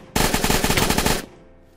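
Rapid automatic gunfire from the Minecraft CounterCraft shooter game, a single burst of about a dozen quick shots lasting roughly one second, loud and close, with no talking.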